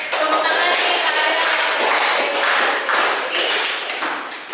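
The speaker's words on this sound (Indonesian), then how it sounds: "boleh tepuk tangan nih kalian" Many people clapping hands together in a room, a dense, steady burst of applause that holds for several seconds and then thins slightly at the end, with no talking over it.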